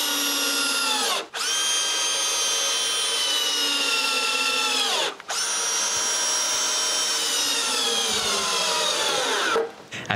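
A power drill drives a screw into a piece of wood to hold the carriage mechanism of a homemade chainsaw lumber mill, whining loudly and steadily with two short pauses and a final stop.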